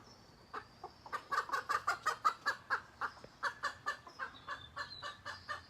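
Chickens cluck in a steady, rapid series of short calls, fairly close, with a few higher chirps mixed in near the end.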